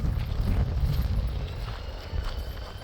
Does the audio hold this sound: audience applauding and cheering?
no